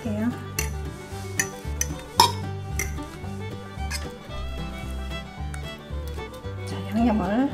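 Tofu pieces are set into a pot for braised eggplant and tofu, giving a few soft close clinks and knocks of cookware under background music.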